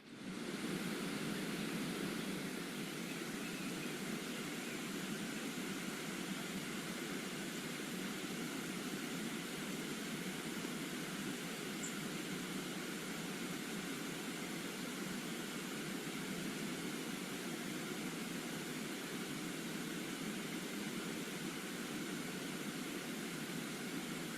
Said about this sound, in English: The sounds you hear are the flies.